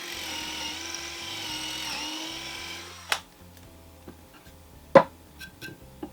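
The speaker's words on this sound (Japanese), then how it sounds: "フェンスの左側にも同じ位置に穴を開けておきます。" A power drill bores an 8 mm hole through a wooden router table fence. A close, whining drone lasts about three seconds, then a few sharp knocks and taps of wood follow.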